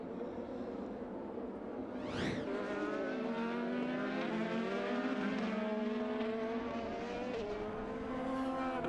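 IndyCar race cars scream past at the Grand Prix of Indianapolis, one car's engine sweeping sharply up as it passes, followed by a pack of engines droning and shifting in layered high whines.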